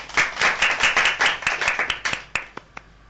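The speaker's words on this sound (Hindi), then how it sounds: "एक बार फिर से जोरदार तालियां होंगी" A studio audience on a Radio Pakistan children's show claps hard for a young girl singer, dense steady applause that thins into a few scattered final claps.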